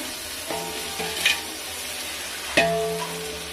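Chopped tomatoes tumble into ginger garlic paste frying in a pan for Hyderabadi chicken biryani, with a steady close sizzle, a few spoon clanks and stirring scrapes over about three seconds, no voices.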